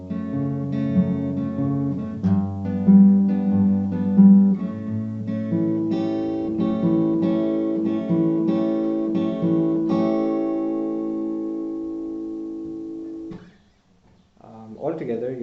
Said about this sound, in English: so the second part of the bridge sounds like this